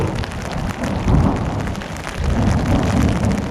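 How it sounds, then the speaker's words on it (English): A big thunderstorm passes directly overhead in Hells Canyon, with steady heavy rain hissing on surfaces and deep rolling thunder swelling twice, loud and close, with no talking. "Occasional storms roll through on distant hillsides until a big thunderstorm passes directly over."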